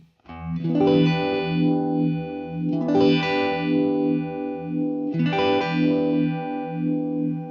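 Vibraphone chords are played through a high-cut filter opened all the way, three long sustained swells with a wavering, chorus-like shimmer, loud and close with no talking over them.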